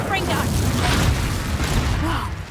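An Incendio fire spell goes off in Hogwarts Legacy with a loud, sustained whooshing burst and low rumble lasting a couple of seconds, with a voice calling out over it.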